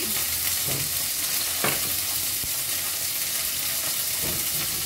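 Food frying in a pan of hot oil with steady close sizzling, a few brief stirring clinks and scrapes rising above the constant crackle; no talking.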